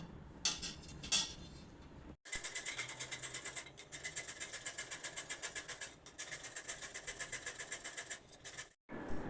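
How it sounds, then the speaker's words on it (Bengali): Beetroot is rubbed across a grater in quick, steady rasping strokes, a regular rhythmic scrape with a couple of brief pauses, close and fairly loud. "আমি গ্রেটারে গ্রেট করে আমি বিটের জুসটা বের করে নেব"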